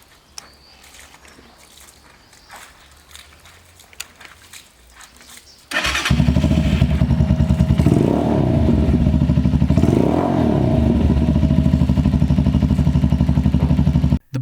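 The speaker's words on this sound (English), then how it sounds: "we must get a good sound check of the engine before the bike" Jincheng 180R motorcycle engine starts after a quiet lead-in, then runs loud and close with a throbbing idle and two blips of revving, steady to the end without talk.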